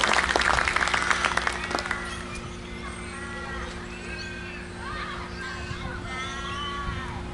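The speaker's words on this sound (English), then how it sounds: "Big round of applause, everybody." Guests at a wedding ceremony break into applause, a burst of clapping at the start that quickly thins and fades, followed by scattered murmuring voices and light background chatter.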